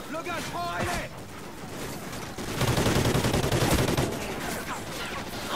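Gunfire in the Call of Duty: Ghosts single-player campaign, dense bursts of rapid shots and heavy fusillade layered with battle noise, loud and continuous, with a voice talking over parts of it.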